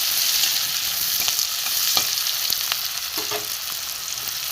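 A spice paste of grated ginger with chilli, turmeric, cumin and coriander powders sautéing in a pan, giving a continuous close sizzle broken by scattered scrapes and clicks of stirring.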